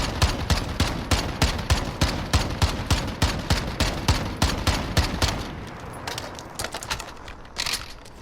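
MK 14 EBR DMR rifle firing in Call of Duty Modern Warfare: a steady rapid string of sharp, close shots at an even rhythm for several seconds, then slowing to sparse, spaced shots.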